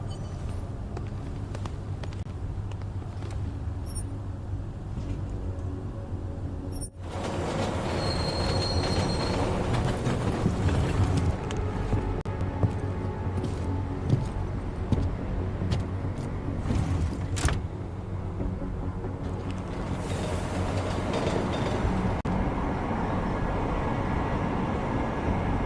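A train rumbles through a station in the game Deus Ex: Mankind Divided, its wheels squealing and clattering in a long, steady passage that swells loudly partway through.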